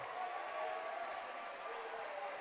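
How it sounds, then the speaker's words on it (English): Staley fans in the stands of a boys' high school basketball game at OP clap and cheer after a hard foul, a dense, even wash of applause from a sizeable crowd, fairly faint and distant throughout. "the Staley fans are applauding that foul"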